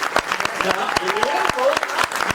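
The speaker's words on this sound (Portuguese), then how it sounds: "eu gostaria de pedir uma salva de palmas de vocês" A crowd claps loudly and steadily, with scattered cheers over the applause.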